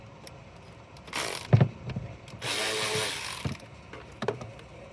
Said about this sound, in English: I just need like an 8mm wrench for these two.